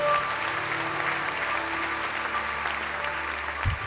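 A church congregation applauding steadily, a full, continuous wash of clapping with faint sustained tones underneath and a brief low thump near the end.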